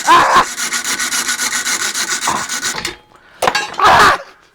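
A hand saw cuts through metal threaded rod with a fast, loud, rhythmic rasping of steady back-and-forth strokes, then a pause and a few more close strokes.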